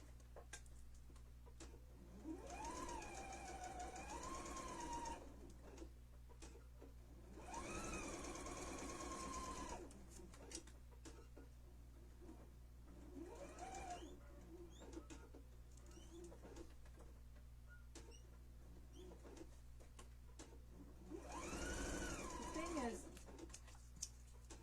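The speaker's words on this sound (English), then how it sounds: "Keep sewing, sewing, sewing, sewing, sewing till you get to your dot." A sewing machine stitches a scallop in several bursts of fast, rhythmic whirring separated by pauses, quiet and close, while someone talks between and over the runs.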